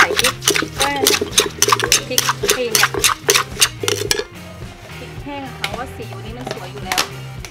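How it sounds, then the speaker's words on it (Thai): Noodles are pounded in a mortar for a Thai green mango salad, with rapid rhythmic thuds and clattering knocks, a steady beat that thins out partway through, while someone talks over it. "ก็จะมาโขลกเส้นนะคะ"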